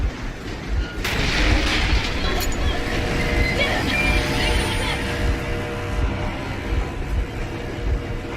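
A train engine runs in the video game Metro Exodus, a loud, steady rumble with broadband mechanical noise throughout and a couple of sharp bursts near the start.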